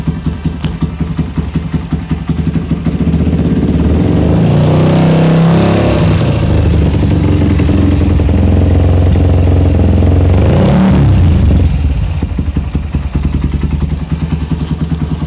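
A Suzuki Satria FU motorcycle fitted with an R9 Mugello custom-pipe racing exhaust idles loud and close with a deep, bassy burble, then revs up through a sustained rise around the middle before a sharp blip and a settle back to a steady idle.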